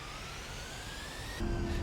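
A-10C II Tank Killer jet engine in the DCS flight game, a steady whine with a rising tone, then a sudden louder, deeper roar near the end.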